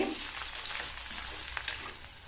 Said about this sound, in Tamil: சேர்த்த பாவக்காய் எண்ணெயிலேயே வதங்கி அதனுடைய கலர் ஓரளவு மாறி வந்திருக்கு